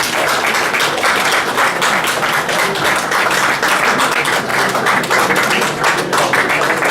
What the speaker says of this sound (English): we may applaud them very